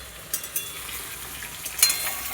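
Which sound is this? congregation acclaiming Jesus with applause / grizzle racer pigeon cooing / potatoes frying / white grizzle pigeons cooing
potatoes frying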